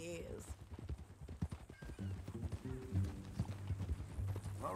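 Horse hooves clip-clop at a steady walking rhythm in Red Dead Redemption 2, with a brief whinny near the start and low ambient rumble underneath.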